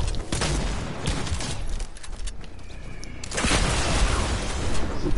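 A hunting rifle fires in a video game in sharp bursts and booms over a busy, noisy game background, with heavier blasts near the end.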